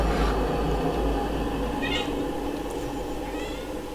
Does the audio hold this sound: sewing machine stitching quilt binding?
no